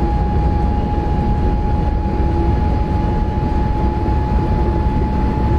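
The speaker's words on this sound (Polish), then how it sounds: "Ta lokomotywa ma to do siebie, że ona przy wysokich prędkościach bardzo głośna jest." Loud, steady roar of a BR 101 electric locomotive at high speed in Train Simulator Classic, a constant rumbling drone with a sustained tonal whine throughout and no talking.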